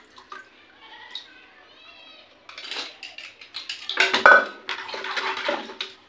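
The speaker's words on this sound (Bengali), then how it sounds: "প্রেশার কুকারটা ধুয়ে নিয়ে একটু ডাল বসিয়ে দিই" A pressure cooker being washed in a kitchen sink: metal pots and lids clatter and knock in busy bursts through the second half, after a quieter start with some faint tonal sounds.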